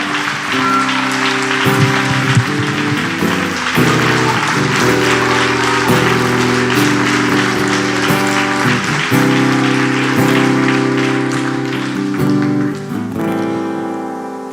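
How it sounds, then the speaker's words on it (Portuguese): Audience at a pastors' union launch event applauding loudly and continuously, dense sustained clapping with a sustained musical tone underneath, swelling and holding for the full stretch. "Se é para aplaudir, vamos aplaudir melhor"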